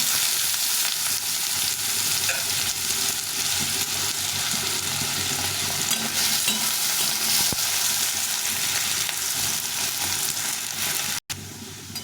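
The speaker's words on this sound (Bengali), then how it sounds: "এই আলুটাকে একটু ভেজে নেব লাল লাল করে ভেজে নেব" Diced red potatoes fry in hot oil in a home kitchen, making a loud, continuous sizzle with steady stirring that stops abruptly just before the end.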